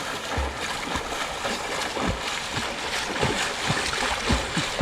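Fast river current on a smallmouth bass fishing river rushes close by in a steady broadband wash, with repeated splashes and gurgles breaking through and no clear talk.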